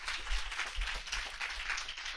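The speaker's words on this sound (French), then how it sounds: "Donc, merci Pierre, et on peut l'applaudir." An audience at a talk with animator Pierre Coffin claps and applauds, a dense, steady wash of many hands close by, with no voices over it.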